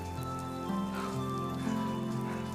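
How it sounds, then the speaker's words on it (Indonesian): Light rain falls in steady, dense patter on a surface, with soft drops tapping continuously under tonal music-like hums in a fairy-tale scene. "Bapak mendengar rintik hujan."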